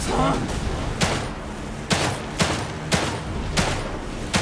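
Single gunshots ring out one after another in The Evil Within 2, about six sharp reports spaced roughly half a second to a second apart, loud and close, with someone talking under them.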